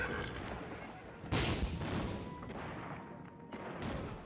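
WWI artillery barrages at the Somme: heavy booms and distant gunfire rumble in a continuous dense roar, with several louder blasts bursting through.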